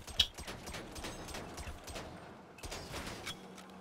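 Rapid bursts of gunfire crack and thud against a Porsche Cayenne in GTA 5, dense and continuous with a few sharper impacts.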